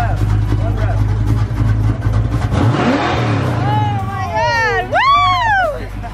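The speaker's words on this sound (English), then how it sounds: "you gotta give us one rev" A car engine revs once in a short, rising burst close by, among a lively crowd of voices, with excited whoops right after.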